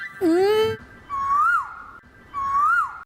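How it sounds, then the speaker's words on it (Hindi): An Asian koel calls three times in a palace setting, with one lower call followed by two rising, swooping whistled notes that are clear, close and evenly spaced with short pauses between them. "कोयल, कोयल की आवाज कहां से आ रही है?"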